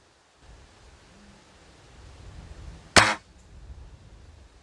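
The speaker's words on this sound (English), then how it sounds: "So I'll take a shot on the target." A springer air rifle fires once at a target, a single sharp crack near the end, with a quiet background around it.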